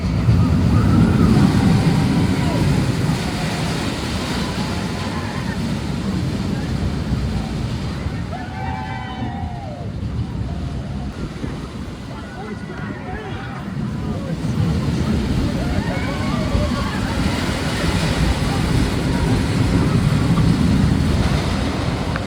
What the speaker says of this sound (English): we just got off of a front row ride on the Boomerang